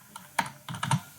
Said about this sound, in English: Why am I typing January?